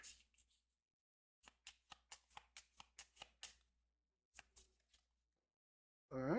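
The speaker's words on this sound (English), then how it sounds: "We shuffle up all the Mythos cards together." Mythos cards from a Cthulhu: Death May Die board game being shuffled: a quick ruffle, a run of about nine crisp riffling bursts, then a few more, close and distinct, with no talking.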